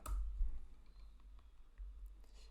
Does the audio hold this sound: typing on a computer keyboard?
yes